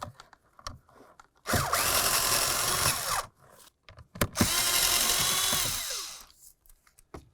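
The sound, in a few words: removing 8mm bolts from Scion xB blower motor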